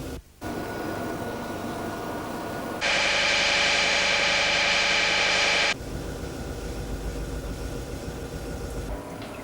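A Jaguar XJ40 saloon cruising at 30 kph, its engine and road noise a steady, close drone, with a louder broadband rush swelling in the middle stretch before settling back to the even hum.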